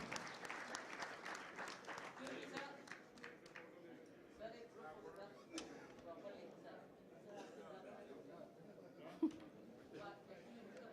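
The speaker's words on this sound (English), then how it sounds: "a huge round of applause for the entire team" An indoor audience at a congress event in Delhi gives the whole team a sustained round of applause, loud at first and then easing off into scattered clapping and crowd murmur.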